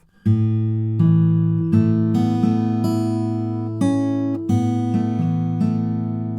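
Guitar playing the intro riff of a song, alone and close, with pinched bass and treble strings ringing together in a bouncy repeated pattern of plucked notes that sustain and overlap.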